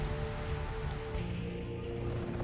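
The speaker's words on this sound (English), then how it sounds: "When the temperature is above freezing, you have the option for rain and thunderstorms." Rain in the DCS World flight simulator game falls as a steady, dense patter of droplets hitting water, continuous and fairly loud with no voices over it.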